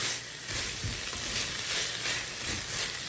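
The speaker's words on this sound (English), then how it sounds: "we're going to let that saute for just about 30 seconds" Garlic sautés in a pot with a bright, close, continuous sizzle that swells and eases a little every half second or so, as though it is being stirred, and no one talks.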